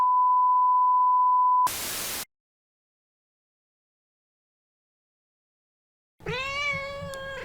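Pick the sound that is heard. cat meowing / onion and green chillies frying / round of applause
cat meowing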